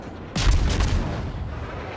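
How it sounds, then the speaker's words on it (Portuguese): Naval gunfire in World of Warships: a heavy shell boom bursts in abruptly, followed by a deep rumbling roll and a second fainter thud as the blast tails off into low background noise. "Olha lá os tiros vindo."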